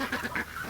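Baby ducks in a backyard aviary give a quick run of soft peeping and quacking calls, close and brief.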